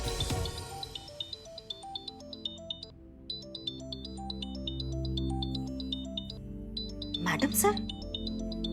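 Incoming video call ringtone on a phone, a repeating electronic melody with a steady bright pattern playing for several seconds, with a brief burst of noise near the end and a voice speaking over it.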